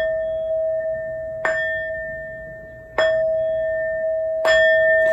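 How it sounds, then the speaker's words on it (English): A ringing bell, struck for a tarot reading, sounds three clear strikes about one and a half seconds apart, each with a bright attack and a long, pure sustained tone that carries into the next. "These next 4 bell songs are to align us and to bless this reading."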